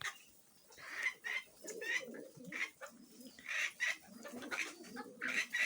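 Domestic poultry cluck in a short uneven series of calls close by, a few birds sounding off in bursts with brief gaps and faint background noise, no talking.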